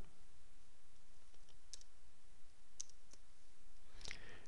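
A computer mouse on a Windows XP machine clicks a few times, sparse and faint, with single sharp clicks spaced a second or so apart over a steady background hiss.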